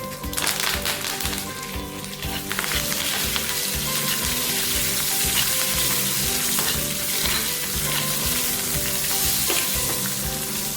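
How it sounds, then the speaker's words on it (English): Mustard seeds splutter and pop in hot oil in a pan for a spicy chili chutney, a loud continuous sizzle dense with rapid crackles and pops, steady throughout with no talking. "I'm just going to turn the flame up a little so the mustard splutters"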